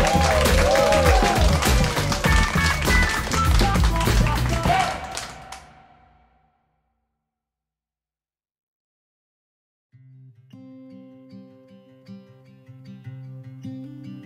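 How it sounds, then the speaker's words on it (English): Wedding guests give the newly married couple a big round of applause, loud dense clapping and crowd noise that fades to silence after about six seconds, then soft tonal music comes in. "So if you could please give a huge round of applause to"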